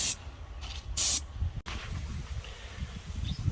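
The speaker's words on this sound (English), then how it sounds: "he's going to keep spraying this all the way around" A paint sprayer applies an exterior coverage coat to a house in two short, loud hissing bursts, followed by a quieter, steady low rumble of the spraying rig.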